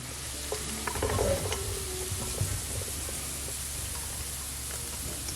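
Browned beef grease for stroganoff pours into a stainless steel pan with a steady hissing, sizzling wash and a few clinks and scrapes near the start, then a constant spattering patter with no talking.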